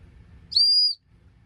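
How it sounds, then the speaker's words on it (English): One short, shrill blast from the emergency whistle in an Oldenwolf knife kit, lasting under half a second and loud against a quiet background, with no talk. "this is the ferro rod, the flint, the ferro rod, and there's the whistle"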